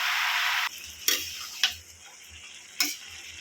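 Bottle gourd sautéing in oil in a pan, a soft sizzle that drops away, followed by a few sharp spoon clinks and stirring taps, faint and close, no talk.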